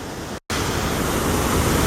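Steady, broadband rushing water roars continuously from Tahquamenon Falls, a waterfall heard close up, briefly cut off by a short gap of silence.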